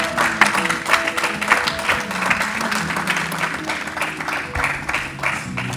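A church congregation claps steadily, with a dense, even wash of applause and no pauses throughout.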